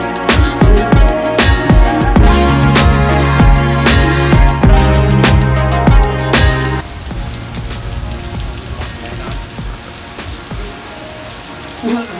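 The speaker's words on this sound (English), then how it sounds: "the weatherman said it wasn't supposed to rain today" Rain falls outdoors during a Toyota Tacoma timing belt job, sharp scattered drops spattering on a surface over a steady wash of water, easing to a softer patter partway through.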